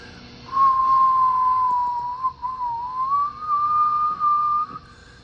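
A steady whistle tone from a Gonset GSB-100 SSB transmitter on lower sideband, its phasing network faulty, holds near one pitch for about four seconds with slight wavering and brief dropouts over a low hum and hiss.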